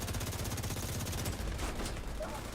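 Video game gunfire striking the player, a rapid rattling burst of automatic shots for over a second, then scattered impacts and noise, fairly close and steady.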